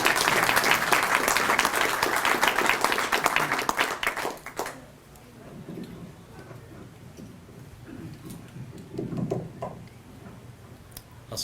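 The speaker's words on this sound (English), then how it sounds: "Please give a round of applause for Jerry Skinner, the chaplain." Loud, dense clapping from an event audience honouring a chaplain rings out for about four seconds, then drops away to scattered claps and quiet room noise.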